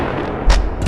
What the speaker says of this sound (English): Best firework in the entire game.